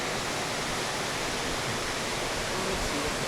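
Ouzoud waterfall in Morocco, the country's highest, heard as a constant, dense rush of falling water, steady and loud with no breaks.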